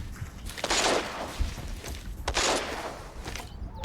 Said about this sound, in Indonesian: Ada suara tembakan